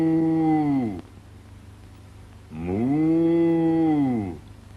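A person imitating a cow, giving two long, drawn-out moos with a pause between them, loud and close with no other sound.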